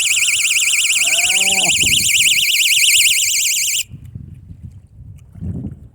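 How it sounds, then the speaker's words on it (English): A loud electronic warbling fishing bite alarm sounds continuously for several seconds over low rumbling and a brief voice, then cuts off abruptly, leaving quiet outdoor noise. "It's set itself in the bite alarm."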